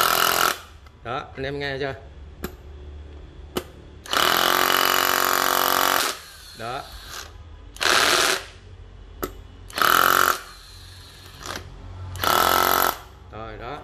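A Japanese cordless battery drill in hammer mode runs in several loud, rattling bursts of a few seconds each, with someone talking in the pauses between them.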